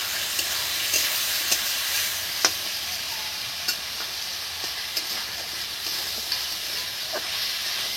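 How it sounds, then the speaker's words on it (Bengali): Chopped tomato added to a hot frying pan while making ghugni, giving a steady hissing sizzle with scattered clinks and scrapes of stirring, close and moderately loud. "এবার এই কুচি কুচি করা টমেটোটা এই দেখুন দিয়ে দিলাম"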